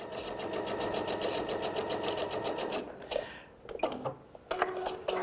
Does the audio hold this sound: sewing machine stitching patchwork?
yes